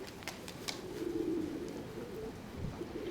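Pigeons coo faintly and continuously at a dovecote on a windy December day, a low murmuring hum with a few sharp chirps near the start.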